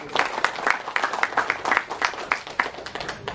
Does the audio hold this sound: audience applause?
yes